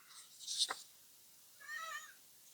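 A cat gives two faint, short meows about a second apart, the first sharper and higher, the second softer, in an otherwise quiet room.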